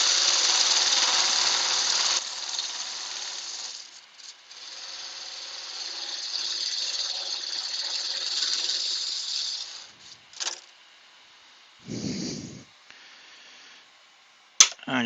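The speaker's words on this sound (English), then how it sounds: "I'm just going to use the wee parting tool here" Wood lathe turning a textured vase as a small parting tool cuts into it: a loud, steady high-pitched hiss and scrape for about ten seconds, then a few short bursts and a low thump near the end.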